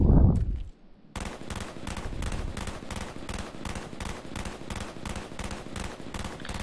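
G11 rifle hip-fired in Call of Duty Black Ops: after a short quiet gap, a long, steady burst of rapid, evenly spaced gunshots rattles on close and loud with no pause.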